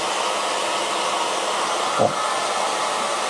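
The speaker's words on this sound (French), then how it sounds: "Je coupe le sèche-cheveux, comme ça on s'entendra mieux." A hair dryer runs steadily with a constant close whoosh. It is cut by a brief thump near the end, and a voice says one short word.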